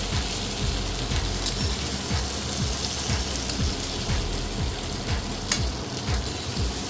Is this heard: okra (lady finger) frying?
yes